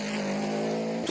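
A Subaru rally car engine drones with a steady high rev and a strong harmonic whine for about a second at a Canadian rally championship stage start, close and loud.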